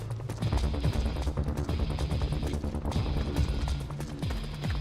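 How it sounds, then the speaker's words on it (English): Rapid, steady footfalls from Metal Gear Solid 4: Guns of the Patriots pound continuously at close range, a dense rhythmic patter of running steps that carries through the whole stretch without speech. "Footsteps."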